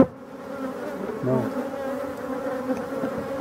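Honeybees from a large colony formed after a swarm buzz steadily at the hive, a close, continuous drone with a slight swell partway through.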